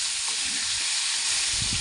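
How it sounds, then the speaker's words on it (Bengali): Pieces of desi magur catfish fry lightly in hot oil, giving a steady, close, even sizzle and hiss that holds without a break. "এই মাগুর মাছ খুব কড়া করে ভাজার দরকার নেই, তাহলে শক্ত হয়ে যাবে, তাই মাছগুলো হালকা করে ভেজে নিতে হবে।"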